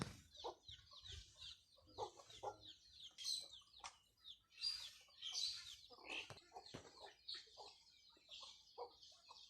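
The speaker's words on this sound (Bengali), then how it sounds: "প্রচণ্ড গরম যার জন্য মুরগির ছানাগুলো চিউ চিউ চিউ চিউ করছে" Baby chickens chirp in a rural yard on a very hot day, with a scatter of short, high peeps and clucks coming in irregular bursts and gaps.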